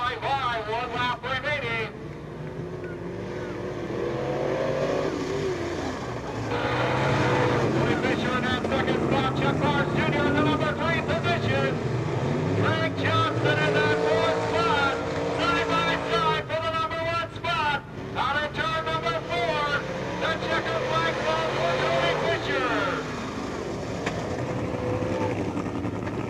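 Old-timer race cars on the final lap at Peoria Speedway during Old Timers Day, engines roaring and rising and falling as they pass, with a voice talking over the din throughout.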